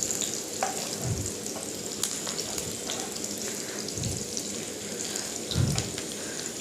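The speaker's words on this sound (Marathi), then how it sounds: "एका साईडला ब्राऊन होऊ नये म्हणून त्याला सतत हलवत राहायचं आहे" Onion and tomato frying in a pan for chicken kharda, a soft, rain-like hiss holding steady with occasional light stirring knocks, moderately quiet and free of speech.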